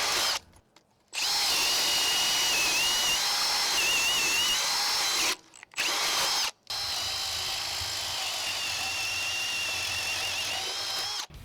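A cordless drill boring half-inch holes with Irwin Speedbor paddle bits, loud sustained whining runs broken by brief pauses, the motor pitch wavering as the battery weakens, close up with no speech.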